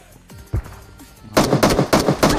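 Rapid bursts of gunfire in the mobile battle royale game PUBG Mobile, a couple of isolated shots first, then a loud close run of repeated automatic fire.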